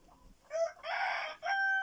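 A rooster crows nearby in a short, loud burst of several harsh notes, with a brief break before the call continues.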